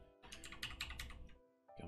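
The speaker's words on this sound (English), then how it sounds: "Got my hands on the right keys on the keyboard." Typing on a computer keyboard during a web integration setup, a quick run of closely spaced clicking keystrokes, a brief pause, then more keys, fairly quiet and close with no talk.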